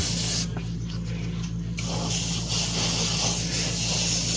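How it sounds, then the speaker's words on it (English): Airbrush hissing in close, steady bursts while spraying aged bone paint on a 1/4 scale figure, with a short pause in the spray before it resumes continuously. "So I've got some GarageKits.us aged bone in my airbrush, and we're just gonna spray this on everything."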